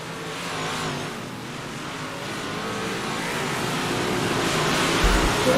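Big block modified race cars roar around the dirt oval at Lernerville in a steady broadband engine drone that swells gradually louder, a dense pack of cars blending into one continuous wash of sound with no clear talk.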